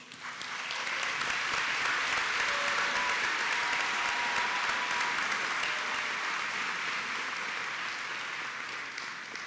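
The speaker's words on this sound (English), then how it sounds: "let's have another round of applause for these graduates" Sustained applause from a large commencement audience at a 2022 SUNY Canton graduation ceremony, honoring the School of Business and Liberal Arts graduates; dense, steady clapping fills the whole stretch without a break.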